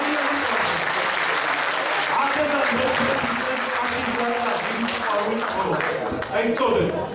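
A concert crowd at Stockholm's Shoshia emigrant dance ensemble show keeps clapping in a thick, sustained wash of applause, with a few sharper individual claps and a brief dip near the end.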